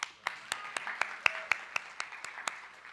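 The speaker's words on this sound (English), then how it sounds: "we can clap." A church audience claps steadily for a few seconds after musicians and helpers are thanked, with sharp, moderately loud clap peaks spaced irregularly over a soft continuous patter.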